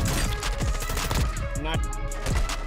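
Video game gunfire crackles in rapid bursts over a dense, constant wash of game sound, the shots close and punchy, with scattered impacts and no clear speech.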